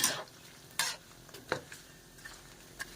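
Pork fat fries and renders into lard in a pan while being stirred, giving a soft continuous sizzle broken by several sharp utensil scrapes and clinks at irregular intervals.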